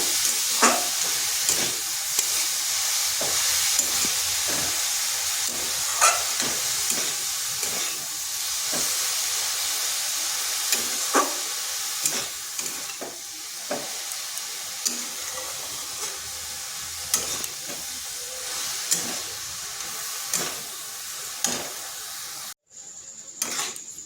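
Carrots and sugar being stirred in a pan for carrot laddu, a steady sizzle and steamy hiss under repeated scraping strokes of a spoon against the pan, close and continuous with no talking.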